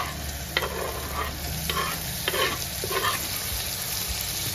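Tomato is added to garlic-ginger paste frying in oil while cooking misal, with a steady close sizzle and a few distinct scraping stirs of a spoon against the pan.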